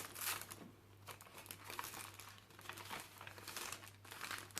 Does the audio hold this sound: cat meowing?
no